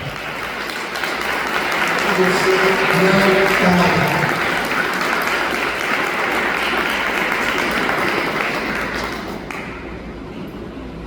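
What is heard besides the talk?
church congregation applauding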